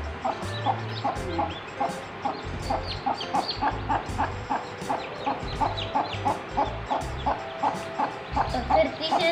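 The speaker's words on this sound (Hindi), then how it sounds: "तो फिर तीसरे नंबर पे ये असील मुर्गी का बच्चा है" A chick of the Aseel chicken breed cheeping close by: rapid, evenly spaced, high peeps repeating steadily over a low background rumble.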